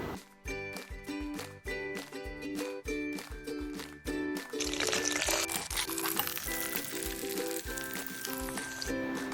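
French fries deep frying in hot oil for a chicken lava recipe, a steady broad sizzle that swells up about halfway through and runs on under rhythmic background music.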